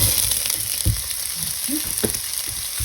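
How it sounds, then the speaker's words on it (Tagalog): Onions and meat frying in a pan for Chinese-style pork, a steady broadband sizzle with scattered soft stirring clatters and thumps, close and continuous, with no talking. "Saka natin ilalagay yung sibuyas at karne."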